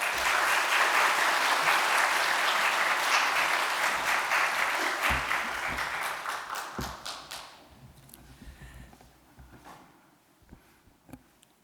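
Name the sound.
applause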